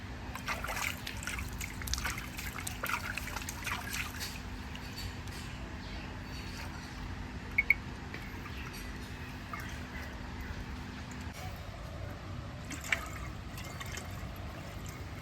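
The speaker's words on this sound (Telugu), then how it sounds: "వాటర్ అయితే ఎలా వెళ్ళిపోతున్నాయి." Water drains out through an opened valve and pipe with a soft, steady trickling rush, faint and continuous under a low background hum, with no voices.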